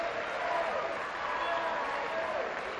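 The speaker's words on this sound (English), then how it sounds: "Rangers must take an applause of encouragement," A football crowd at a SWPL women's match between Rangers and Partick Thistle applauds the home side in encouragement and sympathy, a steady wash of distant, stadium-wide clapping held at an even level for the whole stretch.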